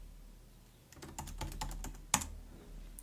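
Keystrokes on a computer keyboard, a quick run of close, crisp taps followed by one sharper, louder key press, heard alone against quiet room hum.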